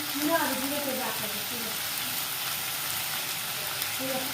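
Tomatoes frying in oil for a dried black pea curry, a soft steady sizzle with some brief stirring near the start, with no talk.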